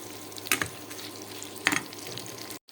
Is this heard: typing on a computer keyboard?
no